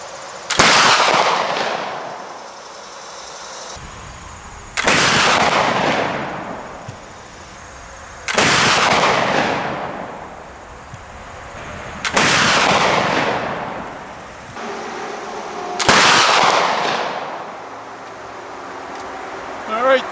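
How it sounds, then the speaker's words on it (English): A civilian flintlock smoothbore musket fires five shots at a 125-yard range outdoors, each a loud, sharp boom with a long decaying rumble, spaced roughly every three to four seconds. "So let's go 125 yards, see if that's an effective musket shot."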